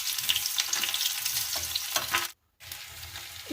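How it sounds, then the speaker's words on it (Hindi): Garlic and potato sizzle and crackle in hot oil in a small tadka pan, a steady close frying hiss with light stirring, briefly cut to silence before resuming. "देखो तेल गरम हुआ तो इसमें मैंने लहसुन ऐड कर दिया था"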